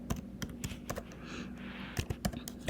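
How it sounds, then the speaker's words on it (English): Rapid clicking keystrokes on a computer keyboard while an email address is typed, an irregular run of sharp close taps with brief pauses and a soft hum underneath. "you just type the person's email"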